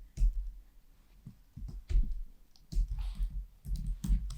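Keystrokes on a computer keyboard entering an SQL query in pgAdmin, irregular clustered clicks and taps close up, with no voice over them.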